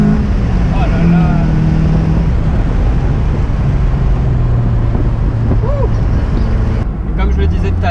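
A Lotus Elise engine revving hard in third gear on a winding road, a loud, steady drone rising and holding with shifting harmonics, with brief voice-like sounds in the cabin.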